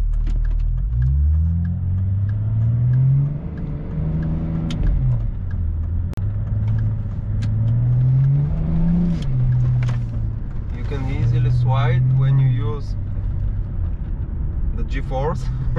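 A remapped BMW E38 725 TDS diesel sedan drives through city streets, its engine droning and rising and falling in pitch through repeated gear changes, heard from inside the cabin with someone talking over it.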